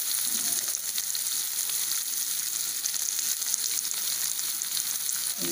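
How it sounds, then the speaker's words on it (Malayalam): Finely chopped onions hiss and sizzle steadily in hot oil in a pan for vegetable biryani, with a loud, even frying crackle close up and no voices. "ഇനി നമുക്കിതിലേക്ക് സവാള നല്ല ചെറുതായിട്ട് അരിഞ്ഞതാണ് ഇടുന്നത്."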